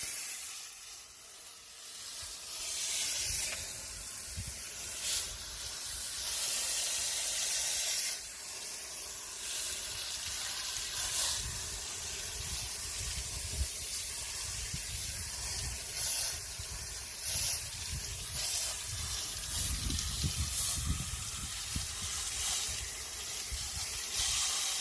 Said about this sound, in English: I'm gonna give her a little hit with the hose and just see what it looks like.